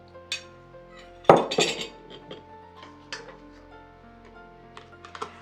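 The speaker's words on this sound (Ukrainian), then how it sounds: "Накриваю кришкою і будемо смакувати зимою." A sharp metallic clink followed by a few lighter clatters and taps as a lid is set and pressed onto a jar of fermented plums with mustard seeds, close by in a quiet room.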